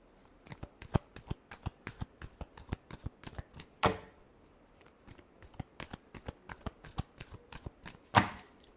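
A deck of cards is shuffled by hand in quick rhythmic flicks and slaps, steady through the stretch with two louder riffling bursts, close up and with no voices.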